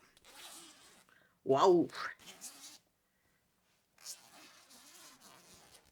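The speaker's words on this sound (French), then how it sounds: "il faut tirer sur la fermeture éclair" A clothing zipper is pulled open in one quick, close rasping stroke, framed by a person talking softly before and after.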